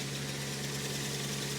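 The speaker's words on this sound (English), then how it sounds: "So the engines are fired up" Pressure washer engines run steadily at a patio cleaning job, a constant mid-pitched motor drone with a low hum, holding an even level throughout with no talk.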